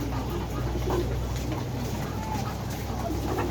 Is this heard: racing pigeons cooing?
yes